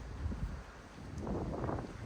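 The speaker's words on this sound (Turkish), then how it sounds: "Hava da rüzgarlı" Wind buffeting a microphone outdoors at a tumbler pigeon loft, a steady low rumble with gusty swells, no voices.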